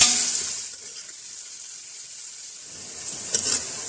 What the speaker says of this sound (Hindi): इस गर्म ऑयल में अब हम ये सारी प्याज डाल देंगे